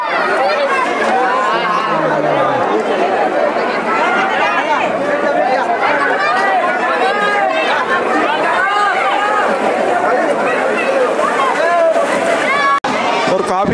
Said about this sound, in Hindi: और यहाँ पर काफी भीड़ भी हो रही है।